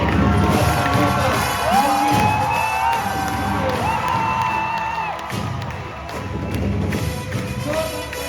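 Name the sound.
audience clapping and cheering at a workshop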